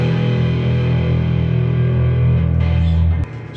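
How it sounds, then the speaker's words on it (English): A sustained, distorted guitar chord through a Marshall MG100DFX amp's onboard reverb rings out with a washy reverb tail, then cuts off sharply near the end. "It's got onboard reverb"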